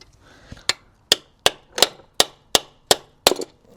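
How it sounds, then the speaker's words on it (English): A hammer strikes a bolt extractor being driven onto a corroded bolt during alternator replacement on an R53 MINI Cooper S JCW, with eight sharp metallic clangs at a steady, slightly uneven pace, close and fairly loud. "I use a hammer to get it over the top."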